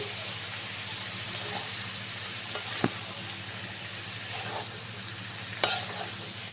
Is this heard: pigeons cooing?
no